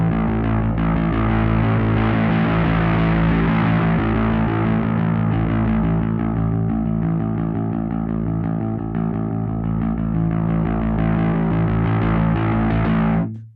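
Bass guitar played through a Darkglass Kaamos pedal with the drive turned up: a loud, thick, distorted tone sustains continuously for the whole clip before cutting off abruptly at the end.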